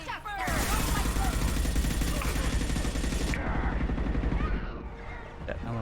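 Bursts of rapid automatic gunfire in the sci-fi shooter Mass Effect 2, loud and close with dense rattling volleys that cut off abruptly, followed by scattered shots and game ambience.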